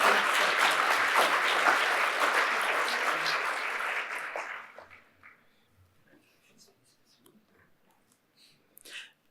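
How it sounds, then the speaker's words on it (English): Sustained applause from an audience welcoming new Fellows at an academy induction ceremony, a dense steady clapping that holds for about four seconds, then fades to sparse scattered claps and quiet room noise. "applaudissons les nouveaux membres de l'Académie des Arts, des Lettres et des Sciences Humaines"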